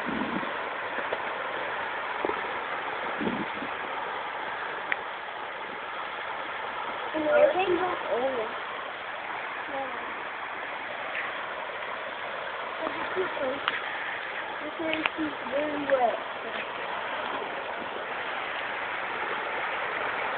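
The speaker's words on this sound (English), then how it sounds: "And that's the creek. Look at that." A creek in Pescadero, California rushes in a steady, broad wash of flowing water, with people talking intermittently over it.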